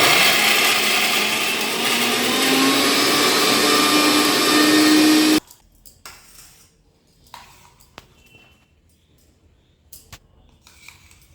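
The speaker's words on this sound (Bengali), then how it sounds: "এবার আমরা মিক্সি করে সব পেস্ট করে নেবো" An electric mixer grinder whirs loud and steady as it grinds spice paste for a home-style Bengali mutton and potato curry, then cuts off abruptly, leaving faint clinks and handling noises.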